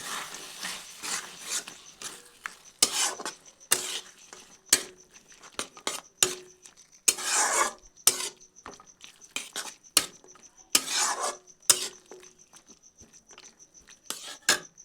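A spoon scrapes and clatters against a pan while tomato chutney is stirred with dates and chopped dried mango leather, giving irregular bursts of rasping strokes and short clinks with quiet gaps between them, close by and with no talking.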